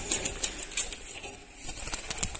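Racing pigeons released by hand from a crate that will not open, quick bursts of wing flapping at close range in short irregular flurries.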